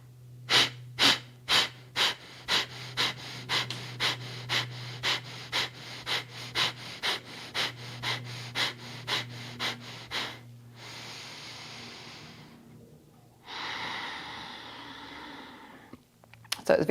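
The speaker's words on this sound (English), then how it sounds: "Exhale through the nose or through the mouth." Yoga pranayama breathing: a rapid run of about twenty sharp, rhythmic nasal exhales, then a long slow inhale and a deep, drawn-out exhale, close and clear with no talk.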